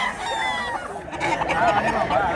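Rooster offered for sale, crowing and clucking loudly up close in bursts, with faint chatter from people nearby.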